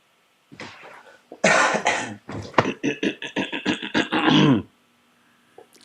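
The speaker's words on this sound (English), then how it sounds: "I got a bad cough." A fit of harsh, rapid coughing up close, a string of short hacking bursts with a throat-clearing sound, then quiet.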